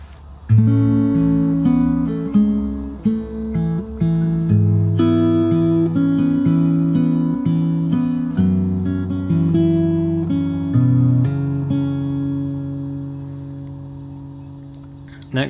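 Fingerstyle acoustic guitar playing the verse of a song from Hamilton, a gentle picked melody over ringing bass notes, continuous and close, played alone without talk.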